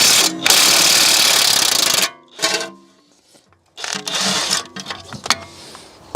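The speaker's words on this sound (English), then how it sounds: "first bolt, 16mm, removed relatively painless" A 16mm bolt being removed from a car hub bracket with a loud, rapid buzzing power tool in close bursts, the longest at the start followed by shorter runs and brief pauses.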